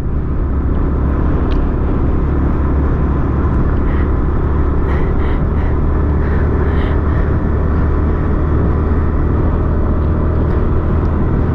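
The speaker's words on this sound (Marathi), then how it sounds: "गाडी पिकअपच पकडत नाही रे भाई." A vehicle engine labours uphill at full throttle on a high-altitude Ladakh road near Umling La, a loud, continuous low rumble and drone with no voices.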